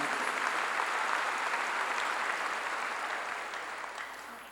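A church congregation gives a steady round of applause during a sermon, a dense, even wash of clapping that gradually fades, with no one speaking over it.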